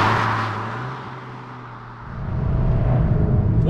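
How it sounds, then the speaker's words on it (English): Steady broadband road and tyre roar inside an Alpine A110S two-seater sports car on the move, a continuous low drone that swells louder after a brief dip, with no talk. "you can't really complain about the fact that there is a bit more tyre roar than, say, a typical"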